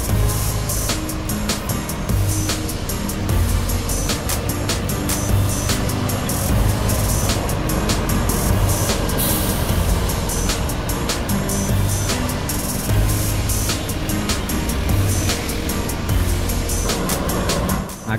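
A Gunung Harta double-decker bus with Jetbus 3 body and Volvo B11R engine running on the Jakarta–Malang route, a steady deep engine rumble with outdoor traffic noise and scattered sharp clicks and knocks, loud and continuous.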